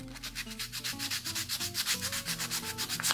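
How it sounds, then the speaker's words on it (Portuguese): A small piece of a homemade ring cutter is sanded with steady, rhythmic back-and-forth rasping strokes, close and continuous with no talking. "ou lixar esse pedacinho aqui"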